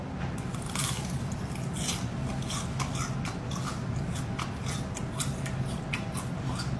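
Crisp crunching bites into a deep-fried large spider dipped in barbecue seasoning, a series of sharp close crackles over a steady background hiss, with no talk.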